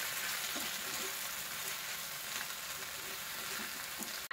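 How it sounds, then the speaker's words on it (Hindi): Leftover-roti noodles fry over a high flame while being tossed in the pan, giving a steady, close, loud sizzle with faint scraping stirs throughout and no voices. "तो इसे इस तरह से हाई फ्लेम में चलाते हुए हम सिर्फ 2 मिनट के लिए फ्राई करेंगे।"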